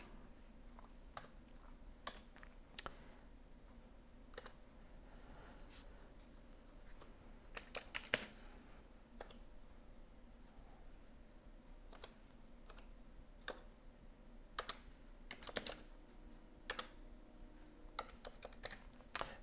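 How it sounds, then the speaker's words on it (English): Computer keyboard typing while programming a Microchip microcontroller: steady, close, quiet key clicks in irregular bursts with occasional louder keystrokes, no talking. "So I'm gonna type out a little bit more code here"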